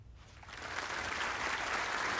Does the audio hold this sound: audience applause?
yes